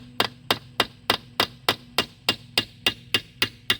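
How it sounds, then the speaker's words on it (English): Steady claw hammer blows strike metal during a VW IRS transaxle teardown, about three per second, a dozen sharp ringing hits in even rhythm, close and fairly loud. "this is a claw hammer"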